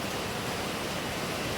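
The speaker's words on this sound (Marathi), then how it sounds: "पाणी पडतंय, दिसत नसेल." Falling water pours with a steady, dense roar near a hillside viewpoint, a continuous broadband wash without breaks or voices.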